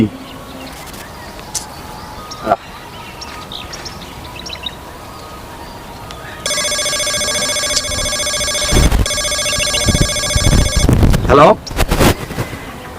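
A phone rings with a steady electronic tone for several seconds amid background noise and birds, with a few sharp knocks near the end.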